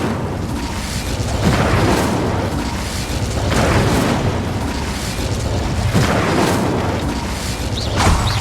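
Incendio fire spell cast in Hogwarts Legacy, heard as loud booming bursts of flame recurring every couple of seconds over a dense, rumbling roar with no talk.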